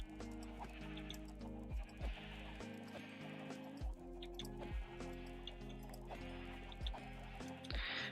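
Sheep bleat several times in the video game Minecraft, short nasal cries that repeat at irregular intervals over soft game ambience and occasional dripping or squishing clicks.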